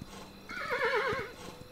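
A horse in the 2D strategy game Kingdom Two Crowns gives one clear, wavering whinny that rises and falls in pitch, close and moderately loud, with faint hoof clip-clop beneath and no talking.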